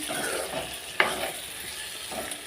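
Egg masala curry is stirred in a pan, giving a quiet, soft sizzle with scraping stirs and one sharp clink of a spoon against the pan partway through.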